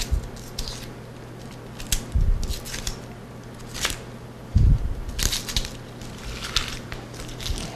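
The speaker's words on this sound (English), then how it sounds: "Just get the outside skin off." Papery outer skin being pulled and crackled off a Vidalia onion at close range, with a few crisp tearing crunches and small rustles. No one talks.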